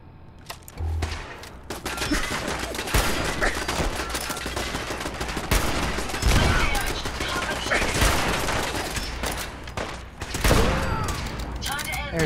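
Sustained automatic turret fire in Fallout 4, a fast continuous rattle of shots lasting many seconds with a few heavier impacts, while a voice talks over it.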